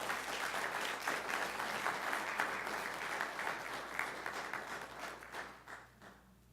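Applause at a school board meeting congratulating students: a steady crowd of clapping hands from a moderately distant audience, holding for several seconds before tapering off near the end.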